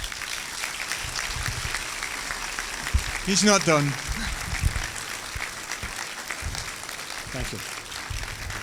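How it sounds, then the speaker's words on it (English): Audience applause at a presentation by Professor Heino Falcke on the first image of a black hole, a steady broad patter of clapping throughout with someone speaking briefly over it near the middle. "I would like to give him one more round of applause"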